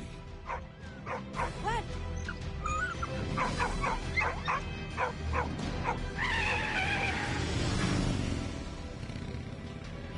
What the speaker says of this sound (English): That dog is the best.